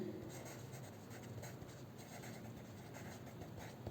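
Pen or pencil writing down a maths answer on paper, a continuous close scratching and rubbing that runs unbroken over a low background hum, with no talking.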